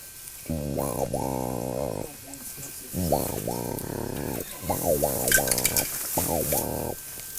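A low, buzzy, pulsing call repeated in a few drawn-out bursts with short gaps, close and fairly loud. It sounds like a person imitating a hooded merganser's breeding-season call.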